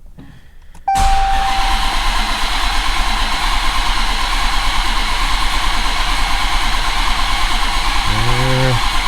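A modified Dodge Challenger Hellcat engine cranking, kicking in abruptly after a second of near-quiet and then holding a loud, steady mechanical whir and drone close by.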